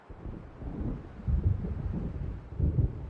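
A storm gathering over open water in Alan Wake Remastered brings low, rumbling thunder. Faint, distant swells roll in under a windy hush, with stronger surges around the middle and near the end.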